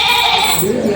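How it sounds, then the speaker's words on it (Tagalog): A native goat bleats loudly and close by at a livestock auction market, one sustained wavering cry lasting about a second. "mga native na kambing"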